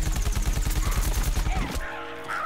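Rapid gunfire in the Plants vs. Zombies: Garden Warfare video game, a loud, even burst of repeated shots lasting nearly two seconds before it cuts off into quieter game sounds.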